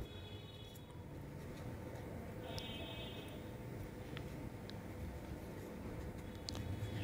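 Pen on paper writing a class six math answer, soft scratchy strokes with brief pauses, faint and close over a low room hum.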